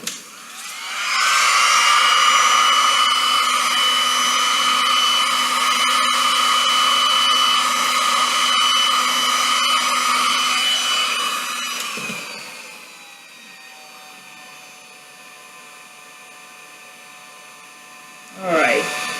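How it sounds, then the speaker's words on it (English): A heat gun blows steadily over fresh resin art, a loud, even whooshing hum that holds for about eleven seconds before cutting off, leaving quiet with a brief final burst near the end. "Don't want to get resin all over my heating gun."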